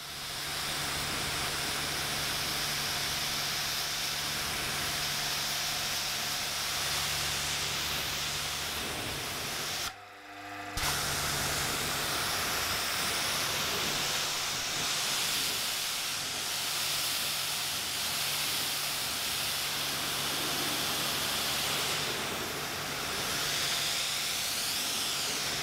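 A used naked Japanese motorcycle is rinsed with pressure washer spray at reduced pressure. The hiss is steady and close, broken by one short pause midway.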